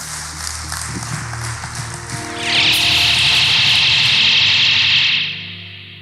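A church congregation breaks into sustained applause, loud and continuous for a few seconds before fading out, following some murmured sound beforehand.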